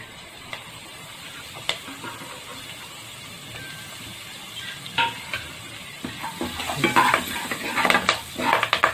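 Curry leaves frying in oil for a country chicken curry, a steady sizzle that grows into louder crackling and popping bursts toward the end, with occasional utensil clinks and no speech.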